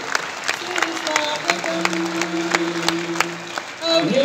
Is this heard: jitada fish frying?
no